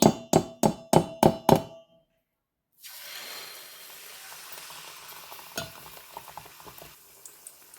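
A ladle clanks five times in quick rhythm against a hot pan, then after a brief silence sweet paniyaram batter hits the pan and a steady, close sizzle of frying spreads out, with faint scraping underneath.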